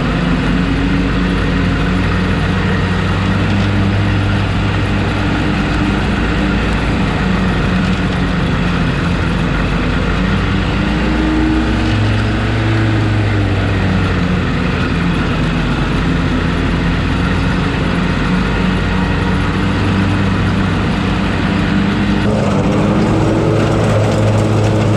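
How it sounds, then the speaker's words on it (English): A STIHL zero-turn mower engine runs at full speed, a loud, continuous low drone with steady mechanical rumble and slight pitch shifts, close and unbroken by any voice. "sticks ahead full send, no holding back. That's just how you're gonna operate one of these mowers."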